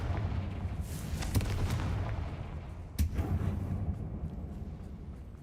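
A Confringo blasting spell exploding in Hogwarts Legacy inside a tomb-like mine, deep rumbling booms with a sharp blast near the middle followed by a fading low roar.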